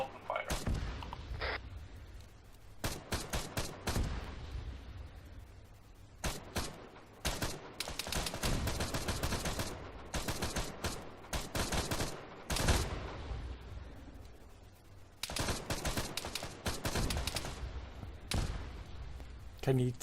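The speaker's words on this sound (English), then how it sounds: "Okay, hold here, take cover, and shoot the mines." Bursts of gunfire in Arma 3 as mines are shot, with dense volleys of rapid shots and short pauses, some heavy booms, and voices talking between the shots.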